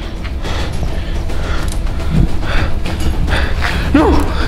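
A house door creaking open, a loud, low, grinding creak that runs on with a couple of brief higher squeaks near the middle and end.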